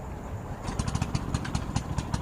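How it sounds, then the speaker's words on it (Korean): A farm cultivator's small pull-start engine sputters to life, a rapid series of sharp chugging pops that settles into a fast uneven beat, moderately loud and close. "이제 시동을 걸어야겠죠?"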